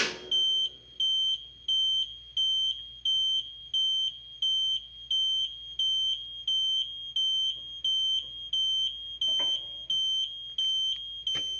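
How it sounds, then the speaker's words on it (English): A car lift sounds a high electronic warning beep that repeats in a steady, even rhythm, a dozen or so evenly spaced pulses with a faint clatter partway through. "this beeping lets you know that it warns you to not get your foot crushed by the legs"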